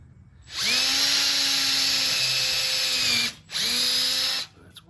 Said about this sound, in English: if I actually drill through the clamp first